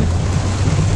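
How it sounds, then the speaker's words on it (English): Gusting wind in heavy tropical storm rain in the Adirondacks, a dense, loud, continuous roar buffeting the microphone with no break. "Gusting pretty good up there."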